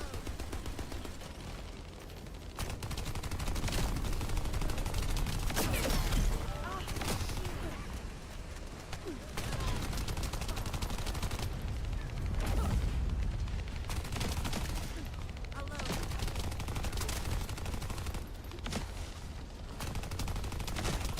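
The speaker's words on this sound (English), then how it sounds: "I'm not a fan of this shotgun." Shotgun fire in a video game, rapid bursts of heavy blasts repeating through a long chaotic firefight, loud and dense, with a person talking over parts of it.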